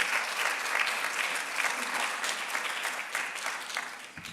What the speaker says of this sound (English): Round of applause for Amanda